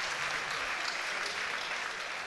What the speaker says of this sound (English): a massive round of applause for both contestants in this K1 fight